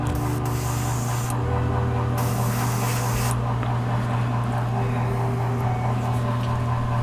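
A Badger 105 Patriot airbrush sprays steadily at about 20 psi, with a continuous airy hiss that swells in bursts as the trigger opens and closes over a constant low compressor hum, with no talking.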